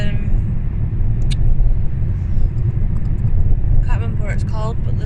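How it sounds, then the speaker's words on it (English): An army truck passes on a road with a loud, continuous low engine rumble and road roar, close by, while people talk over it. "Another cool army truck."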